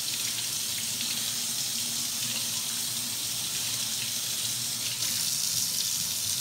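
Tap water gushes steadily from a faucet into a sink while rinsing detergent off a vinyl LP record, a loud continuous hiss with no talking.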